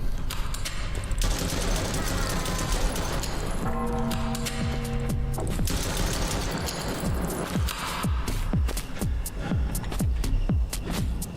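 A horror shooter video game fires rapid bursts of gunfire mixed with booms and impacts that carry on almost continuously, while a player talks over the action.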